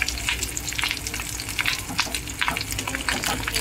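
Fish eggs fry in a pan with a steady, close sizzle and crackle, broken by scraping stirs as the pieces are turned.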